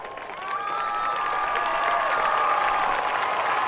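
Crowd applause and scattered cheering for the 2022-2023 Eastside High School homecoming court at a high school football game, swelling after a moment into steady, broad clapping across a large outdoor audience.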